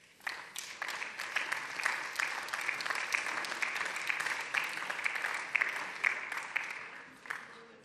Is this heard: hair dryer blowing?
no